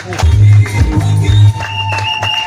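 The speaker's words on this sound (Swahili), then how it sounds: "Shangilia Bwana kwa makofi" A church congregation raises a loud burst of clapping and cheering, close and lively, with a voice calling out over the crowd before the noise settles.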